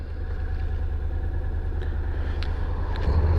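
A 700 ND motorcycle is ridden, its engine a steady low drone close by with a brief rise in revs near the end.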